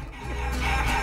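Chickens cluck in the action platformer Guacamelee!, a short burst of close, busy fowl chatter.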